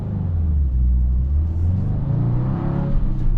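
A 2024 Subaru WRX Limited sports sedan with all-wheel drive and a six-speed manual pulls away in first gear, its engine a loud, close, low rumbling drone rising steadily with no voices over it.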